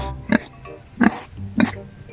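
A large pig oinks close by in three short grunts spaced evenly, each one a clear snort with nothing else around it.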